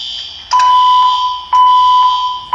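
Laboratory alarm giving loud, piercing electronic tones in repeated bursts about a second apart, each starting with a sharp click, alone with no voices.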